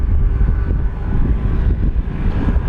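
An FMS Corsair 1700mm RC model warbird passes by in flight, its electric motor a steady mid-distance drone with a slowly shifting tone and no talking.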